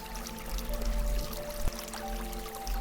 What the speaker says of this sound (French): L'eau coule entre les rochers à l'arrière de la montagne.